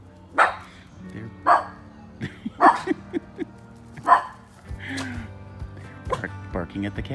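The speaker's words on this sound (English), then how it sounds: "barking at the cat, Lucy." Pet dogs bark at a cat indoors in a series of sharp, loud barks spaced about a second apart, followed by softer yips and whimpers, with a person speaking briefly near the end.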